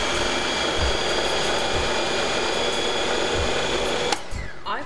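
A food processor grinds cashew nuts into crumbs for vegan parmesan, a steady loud whirring and rattling that runs continuously, then shifts and trails off near the end with no talking.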